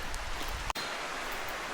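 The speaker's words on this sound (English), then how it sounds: "now that we've finally got a rainy day" Soft, steady hiss of rain falling on a rainy day in rural Tasmania, faint and continuous with a brief dropout partway through.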